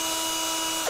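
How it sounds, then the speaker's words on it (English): Power drill boring a hole through an old computer hard drive, a loud sustained high whine that holds steady for under a second and then cuts off. "You're just going to drill a hole right through there."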